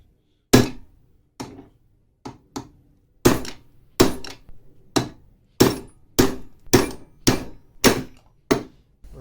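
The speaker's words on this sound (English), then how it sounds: "I've got a big old club hammer and I'm going to hammer it through" A big club hammer strikes a part clamped in a vise, driving it off a shaft. Sharp metallic blows come one at a time, then in a faster, even rhythm, loud and close, each ringing briefly before the next.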